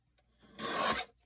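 A short rasping burst of sawing or filing on a piece of wood being cut to 1.5 inches, about half a second of scraping strokes, fairly close and clear with quiet before and after.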